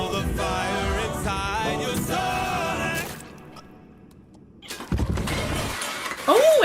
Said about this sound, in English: I love the crashing of everything.